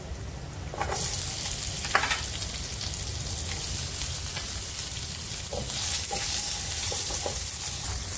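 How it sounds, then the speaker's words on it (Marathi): Peanuts and grated coconut roasting in a little oil in a pan, a steady close sizzle with scraping stirs and faint crackles running throughout, no voices. "ते आता शेंगदाणे चांगले भाजले, त्यामध्ये टाकूया खोबरं"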